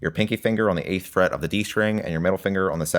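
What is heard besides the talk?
No everyday noise stands out behind the speech.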